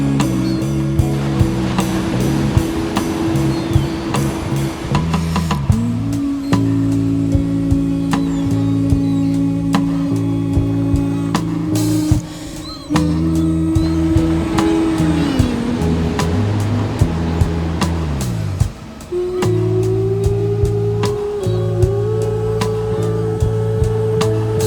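Soft ocean waves wash steadily onto Dongmak Beach on Ganghwa, a continuous broadband surf that runs under a sustained low tonal hum with no talking.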